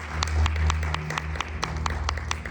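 A church congregation claps for a few seconds over a low sustained keyboard or organ tone, the applause moderate and scattered with distinct individual claps standing out.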